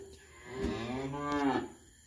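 Cattle moo in a barn where feeder calves are being weaned, one drawn-out bellow rising and falling in pitch over about two seconds, fairly close and with no talk.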